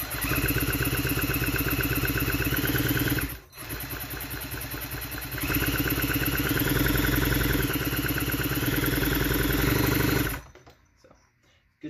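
A McCulloch Pro Mac 610 chainsaw engine runs loud and close after starting, revving and idling with a brief dip near the middle, then cuts off abruptly near the end.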